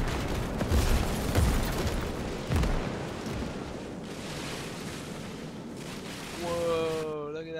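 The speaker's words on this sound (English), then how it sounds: "artillery is so accurate" Artillery shells exploding in the Gates of Hell Soviet campaign, a string of heavy booms and rumbling blasts over continuous battle noise, with a voice speaking near the end.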